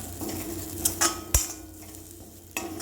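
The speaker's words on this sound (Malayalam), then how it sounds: "ഒരു കാൽ കപ്പ് തേങ്ങ ഒരു അര ടീസ്പൂൺ ജീരകവും നമ്മൾ വറുത്തെടുക്കണം" Grated coconut, cumin and onions roasting in a pan with a low sizzle, broken by several sharp clinks and scrapes of a utensil against the pan as it stirs.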